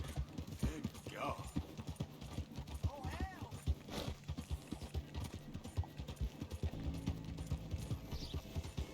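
Horse hooves clatter in a fast galloping rhythm throughout in the video game Red Dead Redemption 2, with a voice speaking over the hoofbeats.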